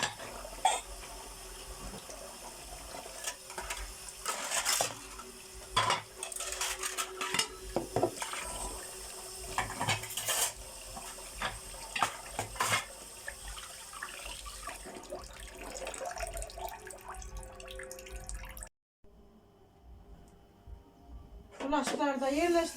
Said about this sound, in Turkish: Şöyle bulaşıklarımı alayım. Ondan sonra da makineye dizeyim.